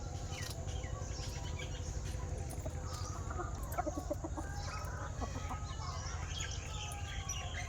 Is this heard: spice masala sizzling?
no